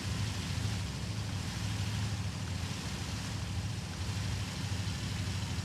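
In Arma Reforger, a vehicle engine held at full throttle gives a continuous, loud low-pitched drone with a steady pulsing rumble for several seconds, nothing else over it.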